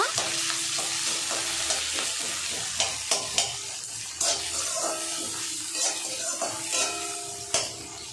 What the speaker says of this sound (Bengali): পেঁয়াজটা এখন লাল করে ভেজে নেব।